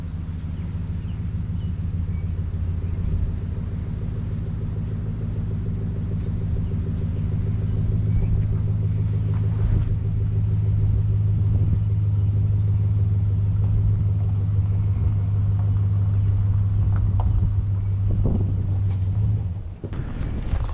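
A stepside pickup truck backing out of a garage, a low steady engine rumble that thickens into a deeper drone as it rolls, close and continuous before a brief knock near the end.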